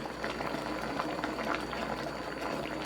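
A braised cutlassfish and potato stew simmers over high heat in a pot, with steady bubbling and popping that stays close and even and fills the whole stretch without a voice.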